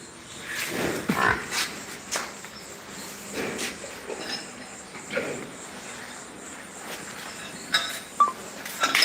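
Dairy cattle low a few times, soft and somewhat distant, amid outdoor ambience with crickets and occasional rustling on a dairy farm.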